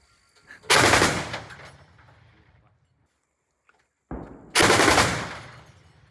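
An anti-aircraft gun fires at a Russian Orlan drone on the Lyman front, with two long, loud, close bursts of rapid automatic fire separated by a few seconds of quieter background.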